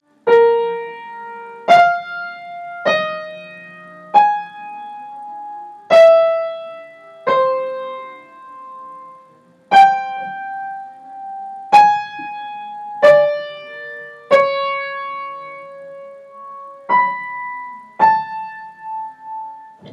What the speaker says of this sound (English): This prime inversion or primary inversion row would sound something like this.